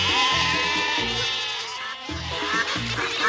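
A cartoon device set to a sheep-call mode gives out a run of loud, wavering sheep bleats, repeated in short pulsing bursts close up and alone.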